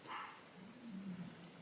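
Dogs bark faintly in the distance, with a brief yip near the start and a low, wind-like rumble continuing underneath.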